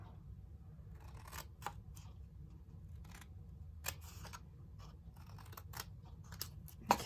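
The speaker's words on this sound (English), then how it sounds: "Just give it a little trim, little haircut trim." Scissors trimming paper for a handmade treat box, a series of soft, quick snips scattered over a quiet room tone, close and fairly faint.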